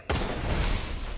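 A single loud gunshot from a sniper rifle in the Free Fire battle-royale game, landing a headshot with a sharp onset and a booming tail that fills the short moment.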